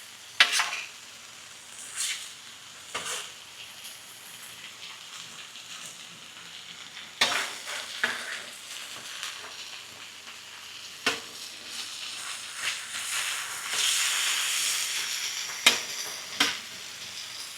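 Continuous hissing sizzle of beef frying on a hot griddle, with occasional scraping and tapping of a utensil against the metal surface.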